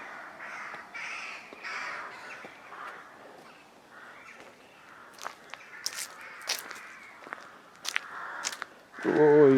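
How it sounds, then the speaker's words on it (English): Rooks and crows caw repeatedly from trees beside a rural parish church at dawn on a marsh, harsh calls in loose bursts at middle distance, with scattered sharp clicks and scrapes and a louder rustle at the close. "you can hear the rooks and the crows in the trees"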